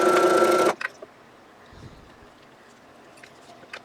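A sewing machine top stitching through batting on a vintage-style holiday bowl cozy runs in a loud, steady burst for under a second, then stops, leaving only faint handling clicks and soft rustle.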